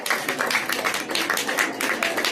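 An audience at a Pongal debate show claps to welcome a speaker, a steady and moderately loud ripple of many hands that runs throughout without a break.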